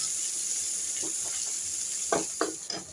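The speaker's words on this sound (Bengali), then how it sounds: "তারপর আমি ওই মাছ ভাজা তেলের মধ্যে আমি দিয়ে দিচ্ছি বেশ করে কিছু পেঁয়াজ কুচি দিচ্ছি আরকি" Chopped onions hit hot fish-frying oil in a pan with a steady sizzle, while several louder crackling bursts and stirring scrapes come near the end.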